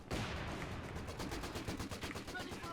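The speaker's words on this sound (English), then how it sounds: "MG opening fire easily pushes them back." Machine gun bursts in the Company of Heroes 2 battle on the Port of Hamburg map, a rapid loud rattle of repeated shots running throughout with a battlefield din beneath.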